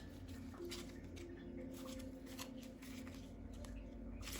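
Tarot cards shuffled by hand, giving soft papery riffles and flicks in several short bursts, close and quiet against a faint background hum.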